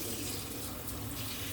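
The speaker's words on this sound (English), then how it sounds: "And rinse it off some more." A kitchen tap runs while fresh cilantro is rinsed under it, giving a steady, close, unbroken rush of water with no voices.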